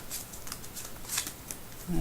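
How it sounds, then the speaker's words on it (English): A few crisp papery riffles of cards being cut, quiet and close, with a brief low thump near the end. "I'm going to give the cards a quick cut"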